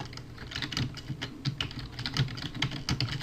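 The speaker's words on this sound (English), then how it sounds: "And let's go ahead and type a couple sentences." Sample text being typed on a computer keyboard, a steady run of close, crisp key clicks and thumps in an uneven rhythm throughout, with no talking.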